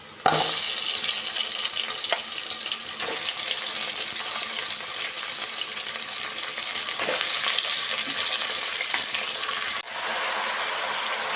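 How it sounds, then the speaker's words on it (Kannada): Washed mutton pieces going into a hot frying pan for a mutton sambar, raising a loud, steady sizzle and crackle that holds throughout with a brief dip near the end, with no talking. "ಮಟನ್ನ ಸೇರಿಸ್ಕೊಳ್ಳೋಣ."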